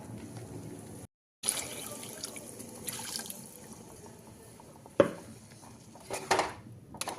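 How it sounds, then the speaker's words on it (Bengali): The water left from cooking spinach and paneer being poured into a pan, producing liquid splashing and pouring sounds with a few sharp clinks of utensils against the pan. "ওই জলটা আমরা এর মধ্যে দিয়ে দেব"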